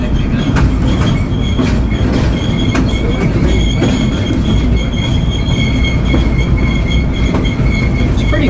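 Riding aboard an NB Southern train, wheels roll with a loud, constant rumble, rhythmic clicks over rail joints and high thin squeals from the wheels throughout.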